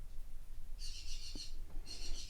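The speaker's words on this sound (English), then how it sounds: "And there's my birds per usual." Small birds sing outdoors, with two bursts of high, bright chirping warbles, the first lasting about a second and the second coming near the end, over a faint low background hum.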